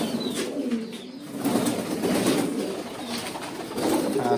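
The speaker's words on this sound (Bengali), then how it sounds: "এখানে কিছু কবুতর আমি রাখছি রেস্টে আছে" Resting pigeons on a pigeon farm in Feni Sadar, Bangladesh, give soft, repeated throaty coos close by, with a brief flutter of wings now and then.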